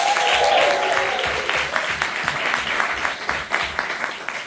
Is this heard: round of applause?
yes